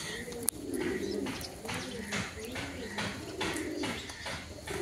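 Pigeons kept for sale, including racer, teddy and Pakistani breeds, coo in repeated soft throaty phrases close by, with a brief sharp click near the start.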